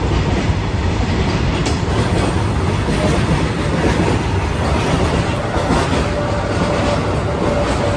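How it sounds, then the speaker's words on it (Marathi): Train running along the track at a station at night, a loud close rumble with rhythmic clickety-clack of wheels over rail joints and a brief squeal, steady throughout without talk. "ओके, सो गाईज ट्रेन आलेली आहे."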